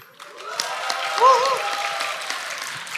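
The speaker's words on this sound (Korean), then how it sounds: "박수 한번 쳐주세요" A church audience at a summer youth event claps for a high school student coming forward, a steady moderate round of applause with a faint tonal sound briefly rising in the middle.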